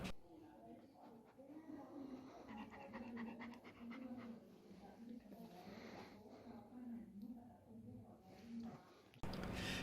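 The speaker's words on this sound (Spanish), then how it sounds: "el perro está jadeando por el calor que estaba haciendo ese día" A dog pants steadily from the heat during a veterinary cardiovascular exam, quick breathy huffs repeating close by while people talk over it.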